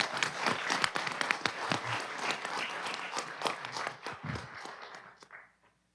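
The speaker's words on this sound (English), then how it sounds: "we want to give the coaches and the participants, a round of applause for that right there" Applause and scattered cheering for coaches and participants at a Mobile city council meeting, irregular claps from a moderately sized crowd that thin out and stop abruptly.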